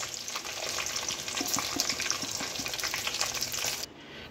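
Whole black peppercorns and a torn bay leaf frying in hot oil, a steady close crackling sizzle with scattered sharp pops and some stirring, cutting off abruptly near the end.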